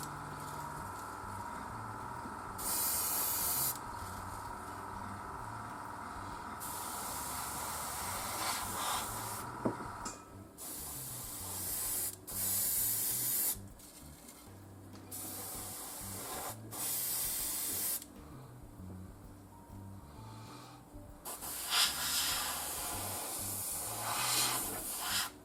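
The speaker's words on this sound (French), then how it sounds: "tu vois, l'aérographe, ça va vachement bien." Airbrush spraying paint onto a Tamiya 1/48 F-14D scale model, a steady hissing burst that starts and stops repeatedly, close to the microphone, with no talking.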